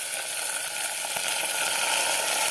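Raw rice tipped into a hot pan for khichuri, giving a loud, dense, continuous sizzle close by with a single faint knock partway through.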